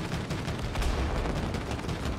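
Gunfire and cannon blasts in the video game It Takes Two, a dense barrage of rapid booming shots that runs without a break, loud and close, with no talking.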